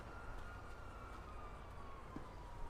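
Police sirens in a video game wail faintly and steadily behind a low engine rumble, a thin continuous tone that slowly glides in pitch at a quiet, distant level.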